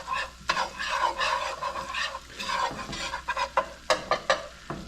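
Flour cooking into a roux in a pan gives a steady close sizzle with rhythmic scraping strokes of a utensil, the stirring growing sharper and more clipped toward the end.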